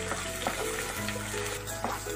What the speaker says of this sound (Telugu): పచ్చిమిర్చి కూడా వేసి ఫ్రై చేద్దామండి.